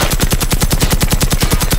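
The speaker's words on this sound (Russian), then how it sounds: "Да, он стреляет вроде туда." An enemy firing in the video game Generation Zero: a loud, rapid automatic burst with evenly spaced shots that runs without a break, and no voices.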